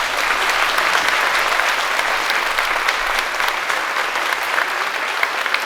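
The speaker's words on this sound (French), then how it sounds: "et pour ça, applaudissez-vous" A theater audience at an evening dance show applauds steadily and loudly, a dense unbroken wash of clapping with no voices standing out.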